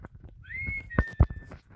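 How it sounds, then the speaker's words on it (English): A person whistles a short rising then sustained note to get someone's attention, faint and brief, with a couple of soft thuds around it. "doesn't mean you can just whistle just to get my fucking attention"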